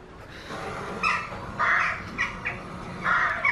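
Recorded bird calls, crow-like caws, play from built-in speakers in a London hotel room, several bursts at moderate loudness over a steady background hiss.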